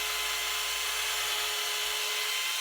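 Electric drill spinning a bore cleaner brush inside a golf club hosel to clear out old epoxy, a steady, even high-pitched whir and brushing hiss that runs alone throughout.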